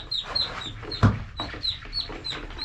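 Ducks on a farm give a busy series of quacks and chirpy calls, with one louder squawk partway through, against soft background noise.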